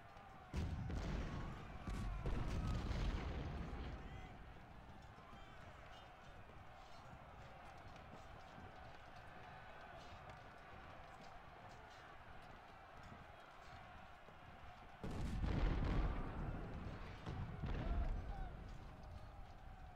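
Artillery units fire in a Civil War strategy game, with two rumbling clusters of heavy booms near the start and again toward the end over a steady battlefield ambience.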